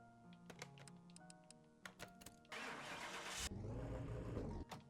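In Car Mechanic Simulator, a Ribbsan Z530 (Nissan 370Z) has its engine started after a starter motor is fitted: clicks and ticks, then a loud burst of cranking that settles into a close, steady idle.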